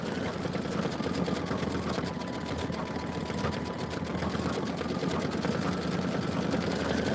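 An embroidery machine steadily stitches out a Kimberbell basket design with a handle, a continuous rapid mechanical whir holding an even level throughout without pauses.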